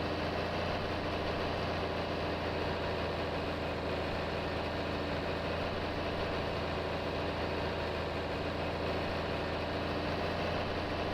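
A tractor engine running steadily during a carrot harvest in a farming game, a low, constant rumbling drone with an even hum and no change in pace, moderately loud and unaccompanied by speech.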